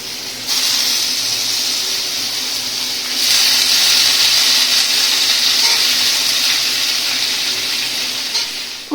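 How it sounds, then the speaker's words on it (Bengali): Spice tempering sizzles in a hot wok with a steady, bright hiss that jumps louder twice as more heat or oil catches. The sound stays continuous and close, with no voices. "আর দেখো ফোড়নও দিয়ে দিয়েছে"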